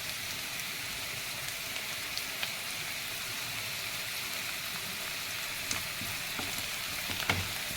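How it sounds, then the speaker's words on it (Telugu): Onions frying in a pan alongside a handful of dried fenugreek leaves for a restaurant-style chicken fry, a steady broadband sizzle with faint scattered pops, no talking. "ఇంకో ప్యాన్లో ఆనియన్స్ ఫ్రై అవుతున్నాయి, ఇంకా ఫ్రై అవ్వాలి"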